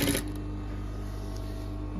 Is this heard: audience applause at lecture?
no